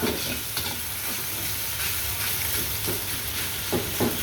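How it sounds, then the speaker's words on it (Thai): Mixed fried rice stir-fried in a small wok over medium-high heat, a steady close sizzle and hiss with soft scraping strokes of the spatula running throughout. "ผัดด้วยไฟกลางค่อนข้างแรง"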